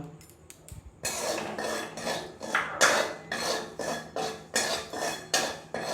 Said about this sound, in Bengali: প্রথমে কড়াইতে দিয়ে দিলাম, শুকনো কড়াইতে দিয়ে দিলাম সুজিগুলো।